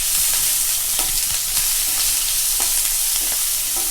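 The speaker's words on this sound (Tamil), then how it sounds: "இது கொஞ்சம் நேரம் வதங்கட்டும்" Finely chopped onion and four cloves of garlic sauté in a pan. A loud, steady sizzle sounds close up, with a few brief stirring scrapes and crackles, and no voices.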